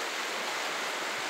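Water of a river running down the middle of a street in Polanica-Zdrój, a steady broadband rush with no pauses, close and fairly soft, with no voices over it.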